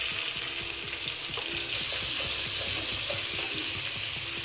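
Ginger garlic paste fries in a pan for chicken pepper dry, giving a steady close sizzle with light stirring scrapes throughout and no talking.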